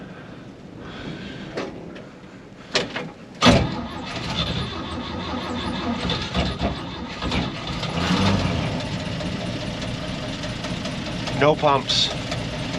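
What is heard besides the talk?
1949 Chevy Advance Design truck engine cold starting and idling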